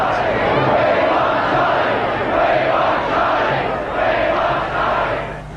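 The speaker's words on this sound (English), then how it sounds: "The crowd called for Prince Charles." A huge crowd outside Buckingham Palace after the 1981 royal wedding chants and calls out in rolling rhythmic waves, loud and massed, with a narrator talking over the roar.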